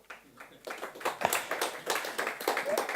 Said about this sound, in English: you can give some applause to the other one here on here